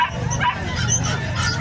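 Several dogs at a crowded pet market bark, yip and whimper close by in a dense, overlapping din with no pause.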